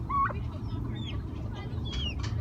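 A hen clucks near her chick at a farm animal sanctuary, giving a few short, close clucks and soft chirping calls spaced over a couple of seconds above a steady low background hum, with no talk.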